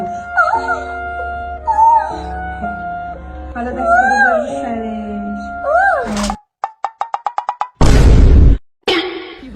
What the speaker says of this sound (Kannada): ಇದು ಮಗು ಮೇಲೆ ನಾಯಿ ಬಿಟ್ಟಿರೋದಕ್ಕೆ ಸೌಂಡ್ ಮಾಡ್ತಾವ್ರ ಅದಷ್ಟೇ ಇದು